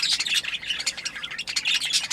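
Small pet birds in a home breeding setup squawk and chirp continuously, close and fairly loud, with rapid overlapping calls and no talking.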